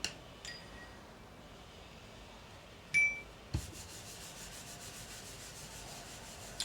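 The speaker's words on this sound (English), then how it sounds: "I'm just going to rub it. I'll rub it and wipe it." A spoon rubs the back of paper laid on an inked woodblock print in Japanese printmaking, giving a faint, steady scraping hiss with a couple of light clinks before the rubbing settles in.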